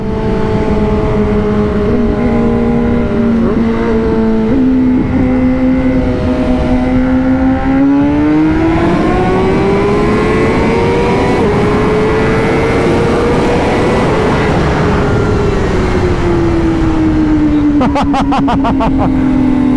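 A Honda CBR1000RR-R Fireblade SP sportbike accelerates hard during a race, its close, loud engine note climbing steadily in pitch through the gear, easing briefly, then rising again.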